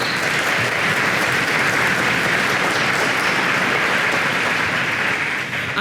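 An audience at an academic awards banquet gives the sponsors a full round of applause, a loud, dense and continuous clapping from many people that holds steady throughout without any speech.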